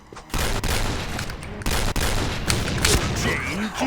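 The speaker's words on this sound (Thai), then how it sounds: "ทำไมสไนพี่แกยิงรัวจังวะ" Rapid sniper rifle fire in a first-person shooter game, a dense barrage of loud, closely spaced shots repeating throughout with occasional heavier booms.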